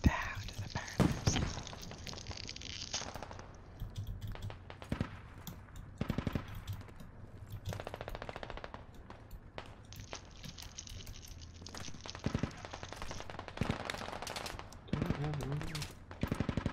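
Bursts of machine-gun fire and scattered single gunshots in the military video game Squad, coming in repeated volleys at moderate distance over roughly seventeen seconds, with voices talking intermittently between them.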